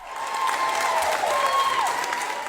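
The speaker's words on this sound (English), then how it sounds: "Doctors, nurses, and staff surprised her by lining the lobby, clapping, and cheering her on." A crowd of hospital doctors, nurses and staff lined up in a lobby clap and cheer for a patient being wheeled out, with continuous applause and a bright whistling or whooping tone rising and falling over it.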